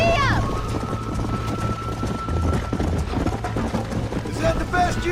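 Horse hooves galloping in Red Dead Redemption 2 with a rapid rhythmic clip-clop running steadily underneath, mixed with game music and voices talking over it.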